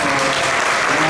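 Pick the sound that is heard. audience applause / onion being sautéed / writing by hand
audience applause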